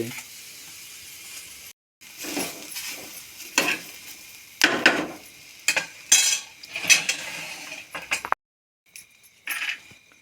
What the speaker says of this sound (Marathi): आता मम्मी कांदे भाजून घेते